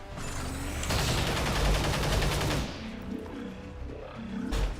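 Rapid automatic gunfire rattles in a dense, loud stream in the video game XCOM 2, then breaks off into quieter game sounds and a final short burst.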